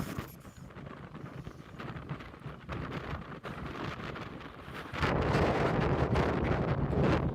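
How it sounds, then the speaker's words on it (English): Wind buffets the microphone in rough gusts at the Lüderitz Speed Challenge in Namibia, growing louder and fuller toward the end, with no voices. "Yeah, it's windy."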